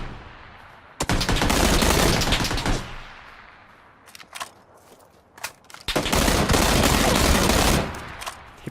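Gunfire in the battle royale video game PUBG: two long, loud bursts of rapid automatic fire separated by a few scattered single shots, close and harsh.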